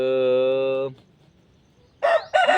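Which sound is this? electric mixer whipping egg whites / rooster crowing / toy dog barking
rooster crowing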